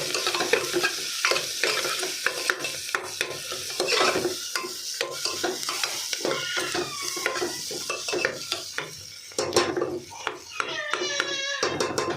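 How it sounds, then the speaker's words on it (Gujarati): Chopped potato, tomato and onion with coriander-cumin powder sauté in a pan for vaghareli khichdi. A spoon stirs with busy scraping and clinking over a soft sizzle, and voices talk faintly in the background. "થોડી વાર સાતળવા દઈશું"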